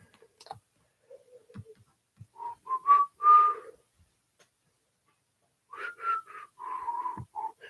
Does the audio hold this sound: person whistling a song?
yes